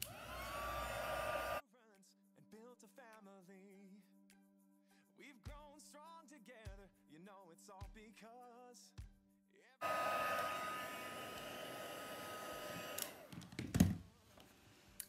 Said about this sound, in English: So I'm now going to use my heat tool.